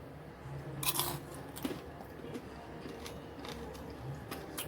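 Bites into a crispy homemade potato spring roll dipped in chutney, with a few sharp close crunches in quick succession near the start and softer chewing after, quiet throughout with no talk.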